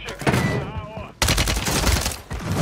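A DTIR 30-06 rifle fires in Warzone, with rapid loud shots in close succession, partly under a man's speech at the start, then a dense burst of gunfire dominating the rest.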